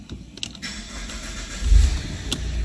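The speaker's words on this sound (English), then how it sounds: "at least we've got the car running" A Saab 9-3 with a non-start fault cranks and catches. Clicks and faint cranking lead into a low engine rumble that swells, then settles into a near, steady idle.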